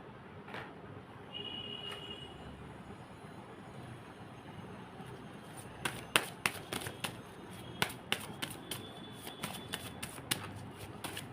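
Tarot cards shuffled and laid out, a soft papery rustle at first, then a run of sharp card slaps and flicks in quick irregular bursts, close and crisp against a quiet room.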